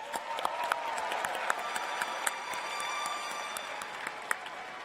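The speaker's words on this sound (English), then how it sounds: "Let us cheer the linguists." A large graduation crowd in a university pavilion applauds and cheers at a distance, a broad steady wash of clapping with occasional sharper claps poking through, fairly faint and unbroken by talk.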